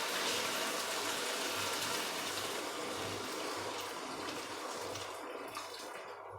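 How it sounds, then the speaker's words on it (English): Water poured into a pan of Mongolian beef gives a steady, close, broadband rush and hiss that runs the whole time and eases slightly toward the end, with no talking. "I'm going to add the water now."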